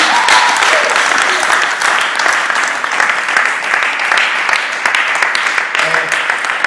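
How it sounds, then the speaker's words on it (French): A church congregation bursts into sustained, loud applause and wild cheering, dense clapping filling the room without pause, with a voice talking over it. "Est-ce qu'on peut acclamer comme des fous?"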